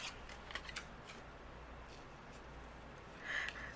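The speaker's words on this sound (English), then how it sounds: "I'm going to use my scissors, and I'm going to just trim this out." Scissors trimming a paper monarch butterfly from a mixed media card kit: quiet, close snipping and rustling of paper in short irregular bursts, soft overall with a slightly louder crinkle near the end.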